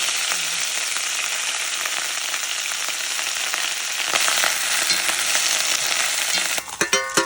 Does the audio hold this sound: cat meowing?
no